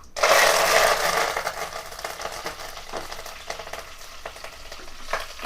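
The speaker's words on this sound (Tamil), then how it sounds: "கருவேப்பிலை இருந்தால் நல்லா பொரிஞ்சு வரணும்பா." Curry leaves, mustard seeds, urad dal and dried chillies crackle in hot oil for a Tamil fish fry, a loud burst of spitting sizzle at first that settles into a steady fry with a few stirring scrapes.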